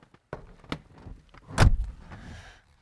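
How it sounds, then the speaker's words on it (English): A car door shuts with a single solid thud near the middle, following a few light clicks and handling noises inside the vehicle. "Let me close the door."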